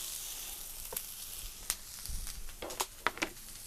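Jalapeños and onions sautéing on a 36-inch Blackstone griddle: a soft, faint, continuous sizzle broken by a few sharp spatula scrapes and taps near the end, with no one talking.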